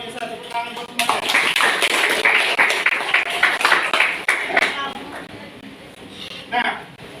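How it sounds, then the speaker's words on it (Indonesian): A crowd claps in a burst of applause lasting several seconds, with a voice speaking over it before the clapping fades. "Luar biasa, tepuk tangan buat semuanya."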